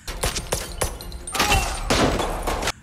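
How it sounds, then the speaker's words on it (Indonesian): Loud gunshots and a blast in an action film as a fuel drum is shot and explodes amid surrounding soldiers: several sharp cracks followed by a heavy, sustained roaring burst with debris-like crackle. "John pun menembak drum bensin hingga meledak dan menyerang tentara Rusia yang mengepung mereka."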